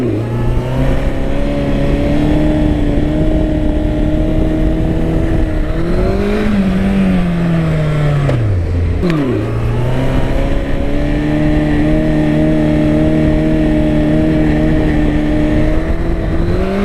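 A Honda CB1100 motorcycle engine revs loud and close, holding a steady drone, then climbs hard in a rising sweep before a quick dip and recovering to a steady roar for a wheelie.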